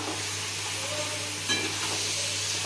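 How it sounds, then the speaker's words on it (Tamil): Chicken pieces coated in masala are stirred in a frying pan for chicken gravy, a steady loud sizzle and hiss with faint scraping throughout. "நல்லா அந்த மசாலாலாம் மேலே ஏறுற அளவுக்கு நம்ம இதை நல்லா கிளறி விடுறோம்"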